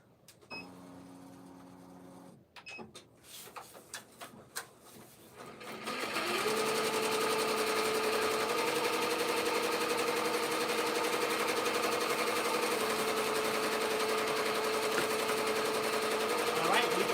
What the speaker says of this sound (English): we can go back to the sewing machine.